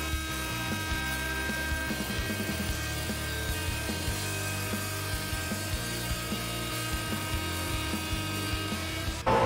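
An oscillating multi-tool fitted with a WonderBlade blade cuts steadily, giving a continuous close, harsh, buzzing mechanical drone with a rattling edge that holds nearly unchanged for the whole stretch, with no voices.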